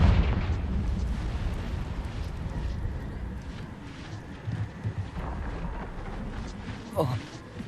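A Confringo fire spell explodes in the Hogwarts Legacy video game, a loud blast with a sustained rumbling roar and crackle, followed by a few smaller pops and bursts; a voice is heard over the noise.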